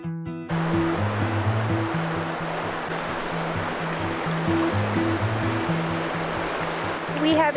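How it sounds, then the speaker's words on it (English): An ice-blue river rushes beside a riverfront campsite along Canada's Icefields Parkway, a constant broad roar of flowing water with a steady tonal hum running underneath. "We have another riverfront campsite tonight. So this river is like ice blue."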